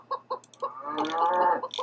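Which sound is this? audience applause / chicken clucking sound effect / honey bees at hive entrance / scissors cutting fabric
chicken clucking sound effect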